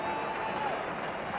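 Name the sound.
players applauding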